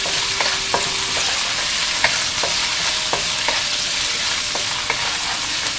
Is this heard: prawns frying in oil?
yes